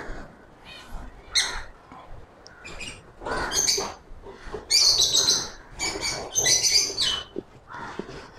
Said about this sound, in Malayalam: ഇതാ കിളികൾ ഇതാ ഇവിടെ ഇരിപ്പുണ്ട്